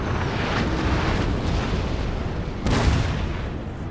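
Cannon fire in a Napoleon: Total War battle, heavy booms rumbling under dense, continuous battlefield noise, with one louder blast near the end.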